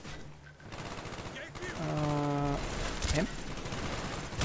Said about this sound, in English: That was a gun.